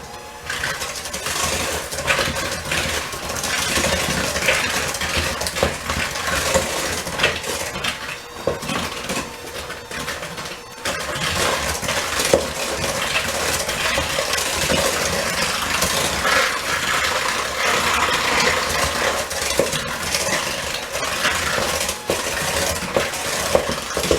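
A steady, loud electric mixer whirs continuously while whipping cookie dough, its beaters clattering against a bowl throughout, with a brief dip in the middle before resuming.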